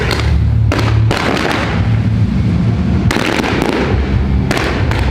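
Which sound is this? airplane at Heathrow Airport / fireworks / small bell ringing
fireworks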